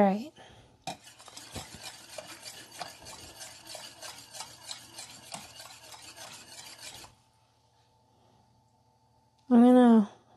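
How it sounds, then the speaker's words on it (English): Gravy for poutine being stirred briskly in a pot, a steady close scraping and rubbing of utensil against metal that runs for several seconds, then stops, followed by a short burst of voice. "Add gravy, mix gradually, stirring briskly."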